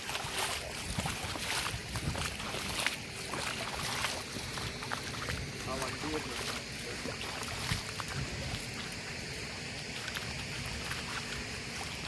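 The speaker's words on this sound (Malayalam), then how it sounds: "ഒഴുക്കിലാണ് വെള്ളം പോയിക്കൊണ്ടിരിക്കുന്നത്" Fast-flowing floodwater rushes over a road in a steady, loud broadband roar that never lets up, with occasional splashes and gusts of wind across the microphone.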